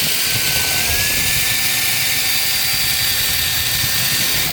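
A DeWalt 54-volt FlexVolt power tool whirs loudly and steadily as it mixes cake batter, a close, continuous high motor whine with a slight rise in pitch near the start.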